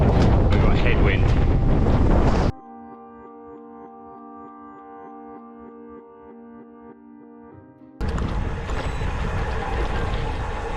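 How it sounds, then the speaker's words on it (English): Headwind roaring across the microphone on a steep gravel bike climb, loud buffeting at the start and end with a quieter stretch between. "We've got headwind."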